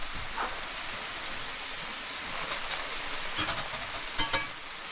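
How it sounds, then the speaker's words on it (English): Butter melts and sizzles in a pan as the base for a roux, a steady close frying hiss with a few sharper crackles and pops near the end, no talking. "Over here we've got our butter melting, and we're going to make a nice little roux out of that."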